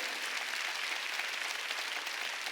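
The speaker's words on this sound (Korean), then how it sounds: "박수 좀 쳐줘요 이 사람들" A church congregation at a Wednesday worship service gives soft, continuous applause that stays even and somewhat distant throughout, with no voices over it.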